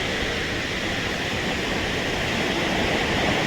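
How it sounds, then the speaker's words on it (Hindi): A mountain river flowing down from upstream near Narayanbagar in the Chamoli Garhwal hills of Uttarakhand, a loud, close and unbroken rushing of water with a broad, even hiss. "ऊपर से नदी आ रही है, अल्मोड़ा की तरफ से नदी आ रही है।"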